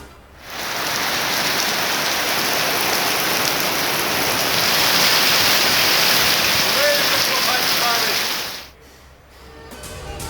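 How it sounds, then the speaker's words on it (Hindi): Heavy rain with strong wind pours down in a steady, dense roar for several seconds, then cuts off abruptly, leaving a quieter background. "मुल्क के मुख्तलिफ मकामात पर तेज़ हवाओं के साथ बारिश"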